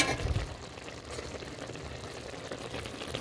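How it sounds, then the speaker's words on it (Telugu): Spinach boils in a pot on a new stove with a steady, soft bubbling and a low watery rumble. A louder burst comes at the start, as if the lid has just been lifted. "మధ్యన ఒకసారి మూత తెరిచి అయితే హాయ్ పాలకూర బాగా ఉడుకుతున్నది"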